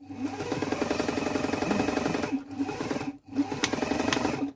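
Stitching a scrunchie closed near the fabric edge, a sewing machine whirs loudly and close in a rapid, even run, pausing briefly twice before resuming.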